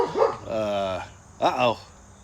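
A dog gives a few yips and bark-like howls close by, two bursts separated by a short pause, with voices mixed in.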